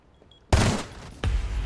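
Gunfire in Rainbow Six Siege, two sharp loud bursts about three quarters of a second apart, each trailing a short roar, following a quiet start.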